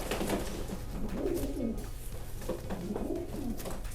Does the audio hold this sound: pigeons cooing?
yes